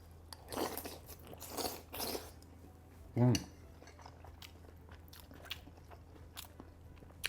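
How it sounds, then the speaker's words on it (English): Crunchy bites into prawn and chestnut dumplings from a Chinese sui kow soup, with a few soft crunches and chewing followed by one sharp, close bite, then quiet chewing and faint clinks. "The crunch of the chestnut, the crunch of the prawns."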